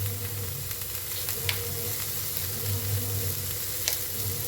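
Onion and ginger fry in oil for an egg masala curry, giving a loud, steady, close sizzle with occasional spatter pops over a low hum, and nobody speaks.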